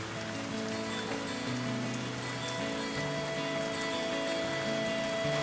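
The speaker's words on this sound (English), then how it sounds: "Heavy on and off rains, well, she'd stay with us all day long" Heavy rain pours steadily onto Cass Lake in Minnesota, a dense, continuous hiss of drops striking the water surface, loud and unbroken throughout with no voices.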